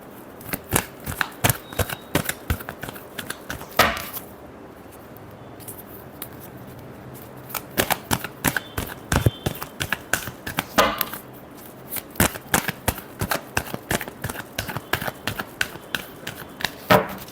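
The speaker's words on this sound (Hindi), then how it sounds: "Last shuffle." Tarot cards are shuffled in quick, crisp riffling bursts, each with a clear snap, broken by a short pause about four seconds in and another near eleven seconds. No voices are heard.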